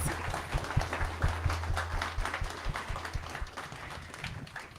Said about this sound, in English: If I could please get a round of applause for Jordan Guiao and Pete Lewis.